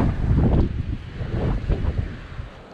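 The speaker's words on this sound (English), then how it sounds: "Very windy today too." Gusty wind buffeting the microphone in low rumbling bursts, strongest at the start and easing off toward the end.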